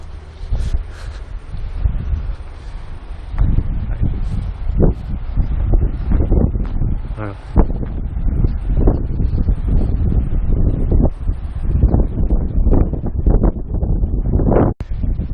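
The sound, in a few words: wind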